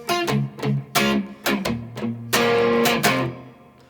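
Electric guitar playing the verse of a song: repeated strummed power chords in short rhythmic bursts with brief gaps, close and fairly loud, played alone.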